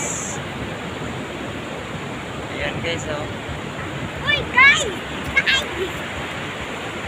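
Sea waves roll in on brown, murky water along a provincial shore, a steady broad wash of surf with a few swells rising, while someone talks excitedly over it.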